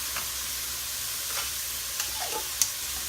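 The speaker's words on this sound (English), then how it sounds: "I'm going to go ahead and add a little bit of garlic." Garlic frying in a pot for a Southern sausage and potato stew, a steady close sizzle with a few soft scrapes and clicks of a stirring spoon against the pot.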